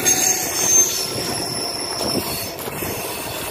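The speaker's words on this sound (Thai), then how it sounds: "สถานีรถไฟอุ้ยรถไฟมาอีกแล้วทุกคน รถไฟมาพอดีเลย" A train at a railway station in Norway, a steady loud rumble of rolling carriages with high metallic wheel squeal ringing over it, heard close and continuous with no talking.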